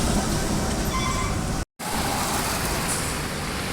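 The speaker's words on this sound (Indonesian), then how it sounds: "dari kejauhan itu terpantau unit bus yang dari arah Sumbar" A bus approaches along a road in traffic, a steady loud roadway rumble with a brief dropout in the middle, continuing close and broadband.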